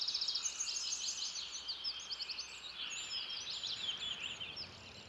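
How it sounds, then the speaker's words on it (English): Many birds of every kind settling at dusk in a rain tree in Bangalore, a dense, continuous chorus of high chirps and trills, fairly faint and distant, with no talking. "Now in your right ear, you can hear birds of every kind as they settle down at dusk"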